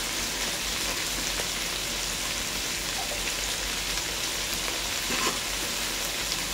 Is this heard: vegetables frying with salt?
yes